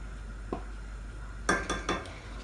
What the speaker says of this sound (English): So I'm going to combine these, our Romano and our Parmesan, and stir these both in very gently.